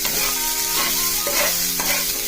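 Mushrooms deep-fry in hot oil in a pan, producing a dense, continuous crackling sizzle that stays loud and close throughout, with no voices.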